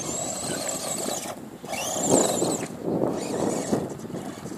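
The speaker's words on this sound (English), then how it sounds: "that's Michael with his little buggy doing some burnouts" A small Maverick RC buggy does burnouts outdoors, its tiny motor whining and revving in rising and falling bursts amid wind noise on the microphone, moderately close.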